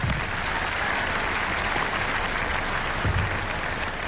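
Steady, dense applause from a tennis crowd at the Australian Open greets a player at the start of a first-round women's match, a continuous even roar of clapping with no pauses.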